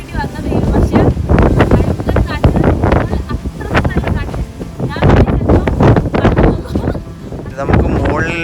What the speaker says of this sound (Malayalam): പക്ഷെ ഭയങ്കര കാറ്റ് കാറ്റടിച്ചിട്ട്